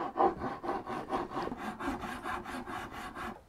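A hand saw cuts dovetails in hardwood, in a beginner's rough first attempt, with a steady run of about a dozen rasping back-and-forth strokes, close and clear, ending abruptly.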